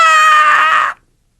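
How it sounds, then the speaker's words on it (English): Heavily over-compressed, squashed sound from a compressor: a loud, flattened, sustained tone lasting about a second before cutting off sharply into silence. "A squash sound sounds like this."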